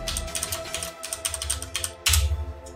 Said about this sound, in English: I always keep hitting multiple keys when I don't want to.